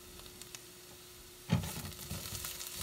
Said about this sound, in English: Stirring my carrots.